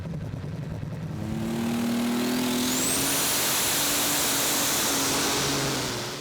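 A Superstock pulling tractor with turbo trouble roars during a 2.5-ton Eurocup tractor pull in Herning, Denmark, its engine swelling to a loud, sustained, whining howl that fills the whole stretch.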